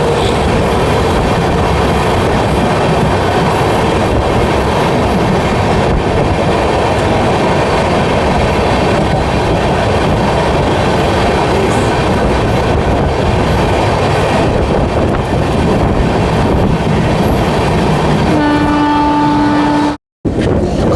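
Jan Shatabdi Express running between Raigarh and Gondia, heard from a coach right behind the locomotive: a loud continuous rumble and clatter of wheels on rails, with a short horn blast near the end.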